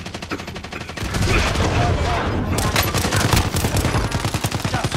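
Rapid automatic gunfire in the Warzone video game: dense, sustained bursts of close shots that intensify after a second, with overlapping booms and steady rattling fire throughout.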